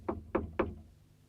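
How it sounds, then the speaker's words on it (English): Three knocks on a flat's door, spaced evenly and close, each one a short hollow rap on its own, followed by quiet. "and knocked on Mary's door"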